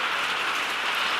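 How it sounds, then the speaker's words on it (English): Rain falling on a cold, wet night gives a brief, steady, even hiss of drops on surfaces. "You see rain."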